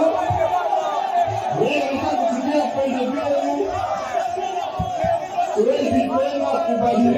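Jubilant crowd at Kindu airport welcoming Matata Ponyo with songs and dances, a dense continuous mass of voices, chanting and cheering, loud and close, with shouts rising above the roar.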